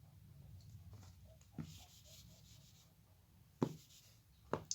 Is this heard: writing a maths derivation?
yes